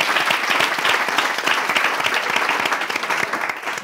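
Dense, sustained applause from a pageant audience greeting a candidate, loud and even throughout, fading slightly at the end.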